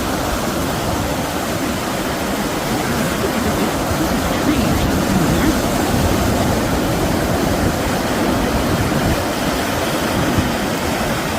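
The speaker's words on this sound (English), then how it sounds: "There's the water coming down off of the road onto the field. Making a big noise." Floodwater from the White River near Oil Trough, Arkansas pours off a submerged road onto a field in a loud, continuous, close roar of rushing water that stays constant throughout.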